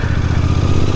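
Royal Enfield Bear 650 motorcycle engine idling close by, a loud, steady low throb with even rapid firing pulses and a faint mechanical clatter, no voices.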